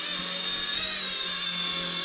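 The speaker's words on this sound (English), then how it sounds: "Flying this pretty decently for never flying an RC helicopter before." A Motion RC mini Consuela radio-controlled helicopter hovers close by with a steady, high-pitched electric whine and rotor buzz that holds level the whole time, with no voices.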